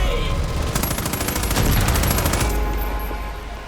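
Rapid automatic gunfire in the shooter Far Cry 5, a fast steady stream of shots for a couple of seconds that then stops, leaving a low rumbling background.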